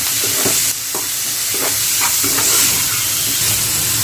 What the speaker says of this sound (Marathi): टॅमॅटोही छान असं भाजून घेऊया छान फ्राय करूया